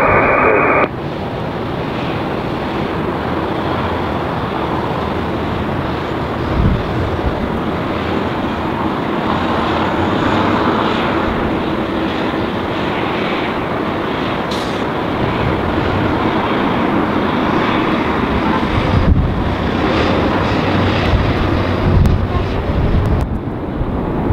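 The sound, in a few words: Airbus jet airliner landing at LAX airport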